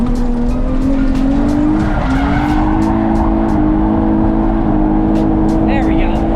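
A drift car's engine drones loud and close through a lap, with a sustained tire squeal as it slides, the engine note climbing and holding under heavy wheelspin.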